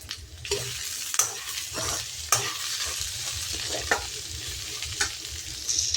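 Chopped ivy gourd fries in a pan with a soft, steady sizzle, broken by sharp scraping knocks as a spatula stirs it every second or so.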